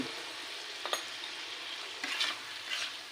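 Fish cooking with tomato, turmeric and salt in a pan gives a soft, quiet sizzle, broken by a few gentle scrapes and stirs of a spatula; nobody talks.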